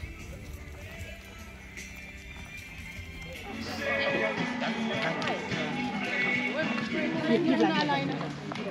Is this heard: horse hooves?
yes